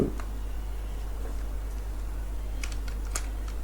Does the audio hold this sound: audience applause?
no